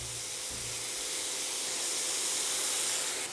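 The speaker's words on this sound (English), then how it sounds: "Let the carrots get cooked in the vinegar and oil." Carrots cook in hot vinegar and oil on a gas stove, giving off a loud, steady sizzle and hiss that stays close and constant throughout.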